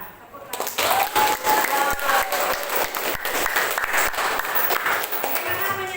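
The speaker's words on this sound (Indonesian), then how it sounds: "Tepuk tangan." A high school class at SMAN 1 Lawang Wetan applauds at the end of a lesson, a full, steady burst of many hands clapping that starts suddenly and continues loudly to the end, with some voices beneath.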